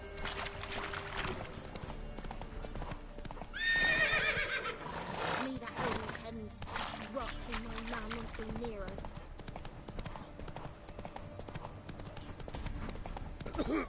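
Horse hooves galloping in the video game The Witcher 3, a steady clip-clop rhythm running throughout with a horse whinny near the start, low in level under game ambience.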